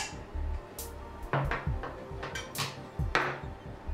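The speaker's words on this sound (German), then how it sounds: "legen wir das Besteck, das Werkzeug einfach ab" Cutlery and kitchen utensils set down on a counter while cooking leeks with ham in cream sauce, giving several clattering knocks and taps close by, with no talk over them.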